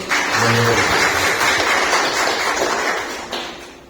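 A church congregation claps together in a dense, steady burst of applause that fades out after a few seconds.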